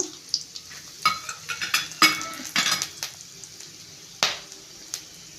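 Whole cinnamon, cloves and pepper frying in a pan for a Kerala-style egg roast, with a soft sizzle under sharp scrapes and clinks of a spoon stirring against the pan.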